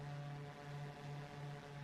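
Airplane engine in a flight simulator video game, a steady droning propeller hum with a constant low tone that throttles up at a moderate, even level with no voices.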